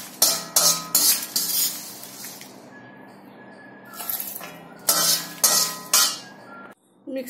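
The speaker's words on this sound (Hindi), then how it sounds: "हम इसको मिक्सी के जार में निकाल लेंगे।" Metal spoons clink and scrape against a mixer grinder jar while spices are spooned in, several short bursts with pauses between, close and fairly quiet.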